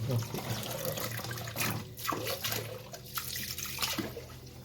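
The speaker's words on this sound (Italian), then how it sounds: "una volta sciacquato bene, ci rimettiamo l'acqua pulita" Clean water runs over rinsed olives in a container for brine, a steady close gush and splash with a voice talking over it.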